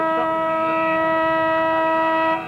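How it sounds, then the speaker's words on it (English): A football ground siren sounds at half-time in a 1992 Mitcham versus East Burwood grand final, a loud steady harmonic tone sustained for over two seconds before cutting off. "there's the siren to end half-time"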